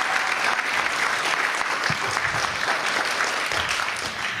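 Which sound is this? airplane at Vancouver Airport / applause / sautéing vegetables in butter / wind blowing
applause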